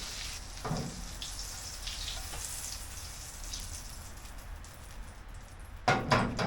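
Butter and oil sizzling in a frying pan on a camp stove, a steady soft crackle with brief louder bursts of spatter near the start and end, close by with no talk.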